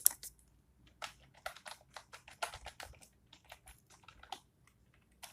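Typing on a computer keyboard while entering accounting figures into a spreadsheet: a run of quick, close key clicks in short irregular bursts, with no talking over them.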